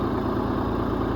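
LS XJ2025 compact tractor of about 18 horsepower at the PTO, its engine idling in a steady, close, low throbbing rumble with no voices.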